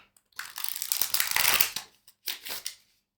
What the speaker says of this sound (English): Give it another good shuffle there.